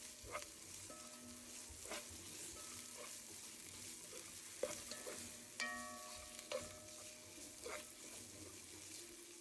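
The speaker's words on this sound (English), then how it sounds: "Saute until the raw smell disappears." Ginger, garlic and chili paste sautéing in a pan for chicken pulao, a quiet sizzle under scattered clinks and scrapes of a stirring spoon, with a brief splash of running water partway through.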